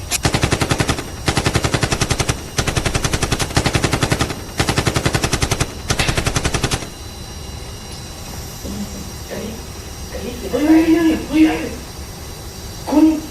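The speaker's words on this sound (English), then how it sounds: "you're about to be killed by a volley of 4 to 12 shots" Rapid volleys of dramatized gunfire rattle in five tight automatic bursts over several seconds, then give way to quieter background with voices and murmuring.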